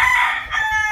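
A rooster crows, one loud, close, strained call that fills the full second, with no one talking over it.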